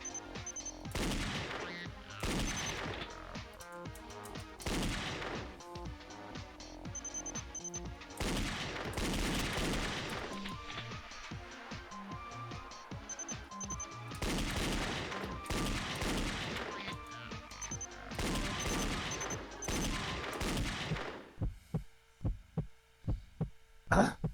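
Gunfire in the Danganronpa Another video game comes as loud, dense bursts of repeated shots that recur every few seconds, mixed with game music and effects, then thins to a few sharp hits at the end.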